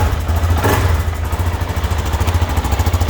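A GasGas 700 ES enduro motorcycle runs close by, its engine thumping in a steady, rhythmic pulse with a brief rise in revs, on a cold rainy day.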